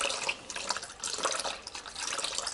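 Fuel trickles and drips from the fuel filter of a Fordson Dexta tractor, a steady close liquid patter with scattered droplet splashes and no talking.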